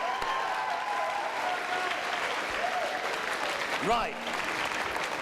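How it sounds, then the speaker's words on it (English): School homecoming assembly audience clapping steadily throughout, a dense, sustained burst of applause from a large crowd, with a voice briefly speaking over it. "Everyone clap for Matt"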